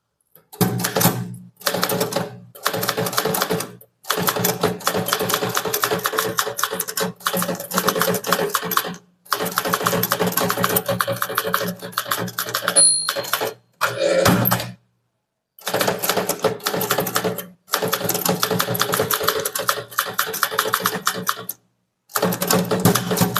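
A typewriter clatters through an English official letter, rapid bursts of keystrokes separated by short pauses and occasional carriage returns, close and loud with no talk.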